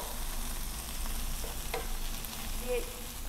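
Sliced okra (lady's finger) fries in a pan for a crispy poriyal, giving a soft, continuous sizzle with faint crackles and a brief stir, low and steady with no talk.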